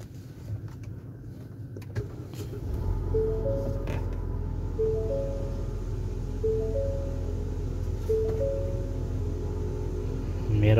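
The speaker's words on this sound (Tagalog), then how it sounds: "Customer concern, unusual sound on engine. So paandarin natin, tingnan natin kung may tunog ba." A 2017 Ford Explorer with a 2.3-liter EcoBoost engine idling with an unusual noise, a steady engine hum overlaid by a repeating creaking squeak, heard close.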